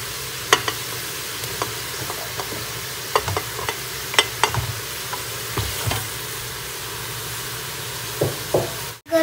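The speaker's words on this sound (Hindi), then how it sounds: "अब हम इसमें डालेंगे प्याज" Onions stirred and fried in a pan while cooking aloo mutton: a steady close sizzle runs throughout, broken by irregular scraping knocks of a utensil against the pan, with a sharp clatter at the very end.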